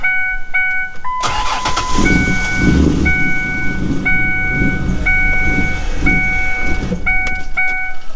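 A car engine with a new custom AEM intake starts for the first time, cranking and catching into a rough, uneven running sound, while electronic chime tones beep repeatedly before, during and after.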